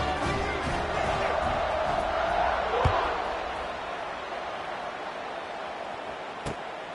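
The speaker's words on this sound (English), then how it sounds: "this crowd is buzzing after that last score" A large football stadium crowd in a video game buzzes as a dense, steady roar, swelling slightly early on and then easing, with a couple of sharp thuds cutting through.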